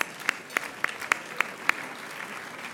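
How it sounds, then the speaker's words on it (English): About six separate, evenly spaced sharp claps ring out in a large dinner hall at an awards evening, quite distant and thin, with a quiet room tone between them. "let's give ourselves an applause"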